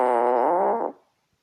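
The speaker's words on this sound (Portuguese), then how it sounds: "Meu Deus, que bosta de peido foi aquele." A single loud, buzzing fart sound effect from a fart-themed video game lasts nearly a second, then cuts off abruptly into silence.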